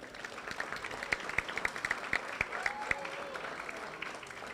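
Guests at a Farmersville all-sports athletic banquet applaud the girls' team athletes, a scattered, moderately sized round of clapping with individual sharp claps standing out and faint voices mixed in.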